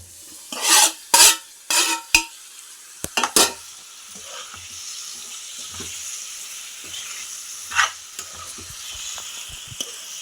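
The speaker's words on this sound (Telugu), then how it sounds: "ఇప్పుడు దీంట్లోకి టమాటాలు వేసుకున్నామండి" Quarter kilo of tomatoes hit hot oil with mushrooms for a curry: several loud bursts of sizzle and stirring scrapes up front, then a quieter steady frying hiss with occasional clicks of a utensil.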